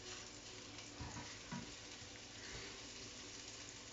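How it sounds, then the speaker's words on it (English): Onion sizzling in a frying pan over low heat, a continuous, even hiss with faint stirring noises throughout. "I love the sound of the onion when it starts to sizzle."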